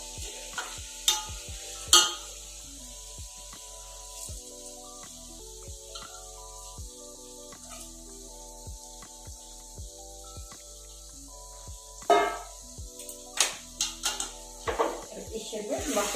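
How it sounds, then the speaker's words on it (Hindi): Rice fried in biryani masala for chicken biryani is stirred in a pot, soft frying under scattered spoon scrapes and knocks, with sharper clatters near the end and a voice speaking between them. "यहाँ मैंने चावल मसाले में फ्राई करके रखा है अच्छे 2 मिनट तक।"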